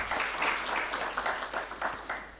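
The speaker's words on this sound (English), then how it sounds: "Let us give him a round of applause." A convention audience applauds steadily, many hands clapping together in a dense, continuous wash that swells slightly and then eases off toward the end.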